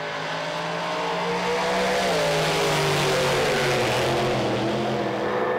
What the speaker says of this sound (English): Great burnouts, great launches.